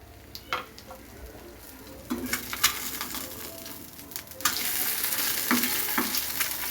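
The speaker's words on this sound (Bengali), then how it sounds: "ডিম পাউরুটি ভেজে নিলাম" Egg and bread fry in a pan for breakfast, with a soft, continuous sizzle broken by light utensil clicks and scrapes. The frying swells louder in the last few seconds.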